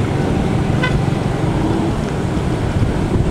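Road traffic on a busy, congested road in Naic, Cavite: a steady rumble of passing vehicles with wind buffeting the microphone, and one brief horn toot near the start.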